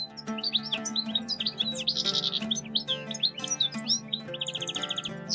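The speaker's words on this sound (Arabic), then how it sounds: "يعد طائر الحسون واحداً من أجمل الطيور المغردة في العالم، معروفاً بألوانه الزاهية وصوته العذب" A goldfinch sings a rapid, bright run of twittering chirps and trills, close and clear, with no talking over it.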